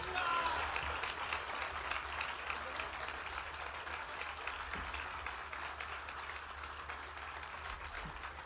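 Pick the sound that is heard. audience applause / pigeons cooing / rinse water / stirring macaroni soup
audience applause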